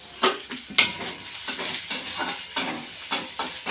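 Dried red chillies and garlic fry in hot oil with a loud, close sizzle, broken by regular scraping strokes of a spatula stirring them in the pan.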